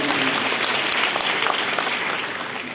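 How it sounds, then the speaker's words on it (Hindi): Audience applause at a school award ceremony honouring meritorious students, held by a charitable trust; steady, dense clapping from a crowd throughout, fairly loud and continuous. "हम तालियां बजाएं"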